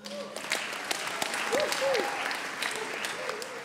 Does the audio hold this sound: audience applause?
yes